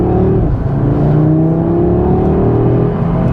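A 2022 Audi RS 3 engine pulls steadily under acceleration with the transmission in S holding gears, its loud, continuous drone climbing gradually in pitch with no talk over it.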